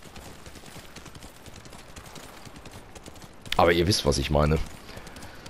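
Hooves clop at a steady, rhythmic pace while a horse is ridden in Ghost of Tsushima, sounding moderately loud throughout, with someone speaking over them partway through.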